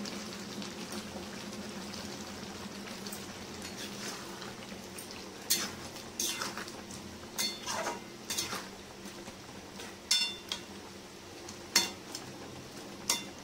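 Cooked food with slit green chillies, chopped coriander and fried spice mix being stirred in a pan, with soft scraping and clinking of a utensil against metal in a few short bursts over a faint steady background hum.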